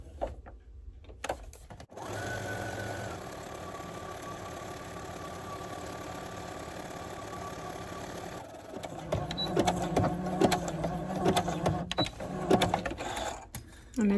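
Sewing machine stitching on paper, a steady mechanical hum of rapid needle strokes running for several seconds, then broken into quicker stop-start bursts near and clear.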